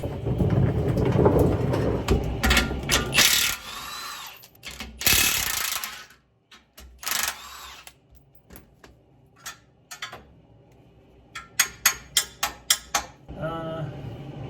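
A ratchet wrench working on car drive shaft bolts under a vehicle being prepared to drop a T-56 transmission, giving bursts of clattering mechanical noise and then a run of sharp, rapid clicks near the end.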